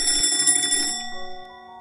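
A telephone rings on and on with no one picking up, a bright electronic ringing tone close by with steady repeated bursts that fade into a sustained tone.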